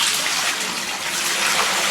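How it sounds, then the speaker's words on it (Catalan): Water gushes steadily into a vat for making paper by hand, a loud, continuous rushing splash close by with no pauses. "en la tina ara anem a introduir aigua"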